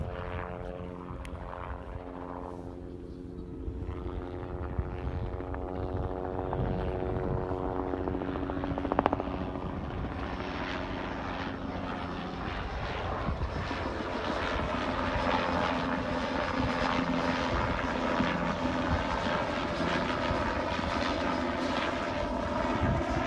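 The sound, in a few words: helicopter flying overhead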